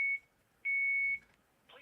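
A phone's low-battery charge alert: two thin electronic beeps, a short one followed by a longer one, clear but not loud in a quiet indoor room, with a faint rustle at the end.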